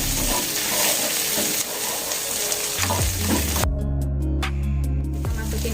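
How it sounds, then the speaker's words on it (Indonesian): Dried shrimp stir-fried with mushrooms for a meat and mushroom filling, sizzling loudly in a hot pan. Continuous spattering frying noise with scraping stirring strokes and a few sharp utensil clinks near the end. "Kita masukin ebinya, kita aduk-aduk lagi sampai ebinya harum ya."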